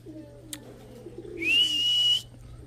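A racing pigeon at the loft during a derby race, with soft low cooing followed by a clear, bright whistling tone, close and fairly quiet over a faint steady hum.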